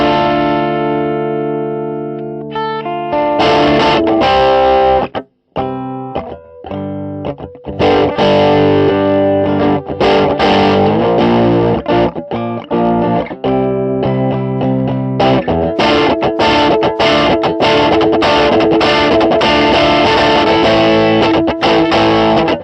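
Electric guitar run through a Benecol's FuzzFace fuzz pedal, loud and saturated with a thick distorted tone, moving from sustained chords to choppy rhythmic strums with a brief gap near the middle, no talking.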